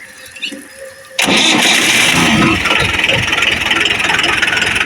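A secondhand Mahindra 575 tractor engine starts abruptly after a brief quiet moment, then settles into a loud, close, steady diesel rumble.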